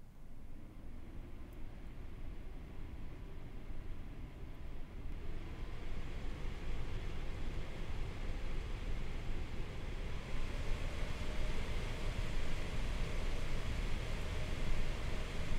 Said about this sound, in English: we're going to be taking a look here at the fan noise right now